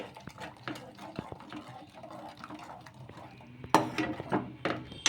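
A utensil stirs raw coconut paste into boiling water in a pot, giving sparse metallic clinks and scrapes over a soft bubbling background. There is a few sharper knocks against the pot.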